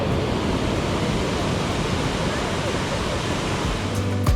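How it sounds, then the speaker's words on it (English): Roaring, steady rush of 25-meter waterfalls cascading into a pristine lake in a Bosnian national reserve near Mostar, broadband and continuous throughout, with a wind-like hiss and possible faint voices underneath. "enjoy these 25-meter high waterfalls cascading into a pristine lake"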